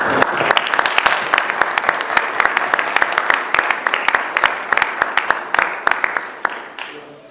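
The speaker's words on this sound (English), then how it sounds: "I'd like to give them a lot of applause" Audience applause for young speakers at a university meeting, loud steady clapping from many hands with sharp individual claps standing out, tapering off toward the end.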